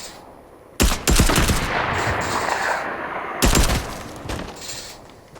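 Two loud bursts of rapid gunshots from the video game Fortnite, each trailing off into a long rolling echo, with no talking.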